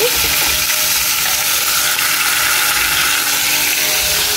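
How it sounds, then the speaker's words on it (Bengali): Stalks and potatoes frying in a pan give a loud, steady broadband sizzle that holds for the whole stretch, with faint scraping from stirring underneath and no voices. "আমি ডাটা দিয়ে আলু দিয়ে ভাজি করতে বসাই দিচ্ছি, বাকিটা বসাই দিচ্ছি"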